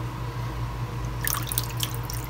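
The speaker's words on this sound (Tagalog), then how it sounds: "cornstarch lang at haluan natin ng tubig" Water is stirred into cornstarch to make a slurry for thickening beef pares, giving soft close splashy drips and trickles over a steady kitchen hum in the second half.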